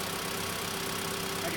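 Low, even idle of a 2016 Mitsubishi Lancer ES sedan's 4-cylinder engine, under 10,000 miles, running quietly with a smooth steady hum and no talk over it.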